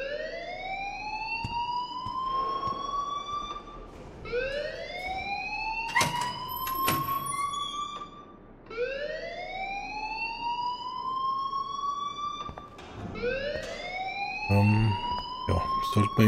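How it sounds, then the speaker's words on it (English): Fire alarm in the video game Life is Strange, sounding as repeated rising electronic whoops in loud cycles, with clanking bursts and background game sound between sweeps. "please turn off that alarm"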